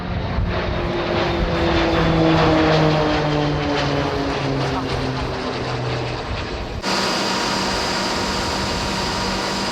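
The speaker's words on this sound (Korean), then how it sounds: "KT-1 훈련기와 제트 엔진의 T-50 항공기는 조종사들의 비행 훈련을 효율적으로 이뤄내고 있다." A KT-1 propeller trainer and a T-50 jet trainer in flight give a loud, sustained roar of engines and propeller drone whose pitch slowly falls as they pass, continuing steadily throughout with no talking.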